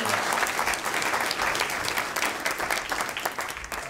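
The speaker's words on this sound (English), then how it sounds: "Let's give Bob a round of applause." A room full of people applauds Bob Collymore, Safaricom CEO, at the close of a fireside chat at iHub: loud, dense, steady clapping for about four seconds that tapers slightly at the end.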